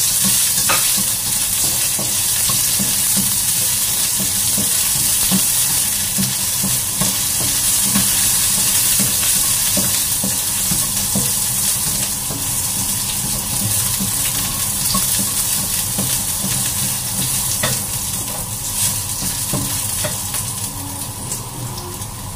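Onion and garlic fry in a pan with a steady, dense sizzle, occasionally stirred with soft scraping, close and continuous with no talking.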